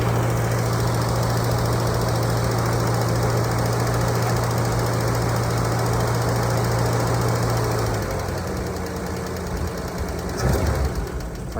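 Ford F150 truck engine running on choke, a loud, fast, even idle with a strong low hum that drops in pitch near the end as the engine settles, followed by a brief clunk.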